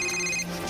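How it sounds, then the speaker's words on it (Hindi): A cartoon phone ringtone plays, a brief, clear electronic ringing melody with bright sustained tones, close and alone without speech. "डैड का फोन है।"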